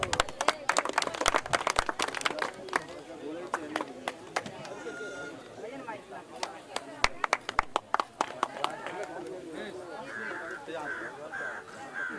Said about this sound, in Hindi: सब तालियों से स्वागत करेंगे